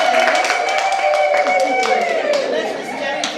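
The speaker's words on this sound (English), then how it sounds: "We'll clap our hands for Irene." An audience claps for Irene at the launch of a Soroptimist Kenya Embu chapter, a dense patter of applause running under loud, high voices and chatter throughout.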